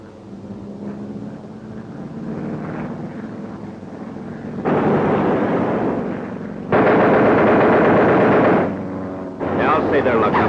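A B-17 bomber gunner fires a machine gun in a wartime setting, sustained rapid bursts that roar loud and close, stopping and restarting in several long stretches over an engine drone.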